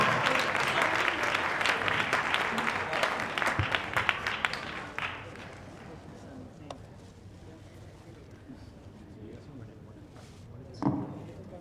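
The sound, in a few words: audience applause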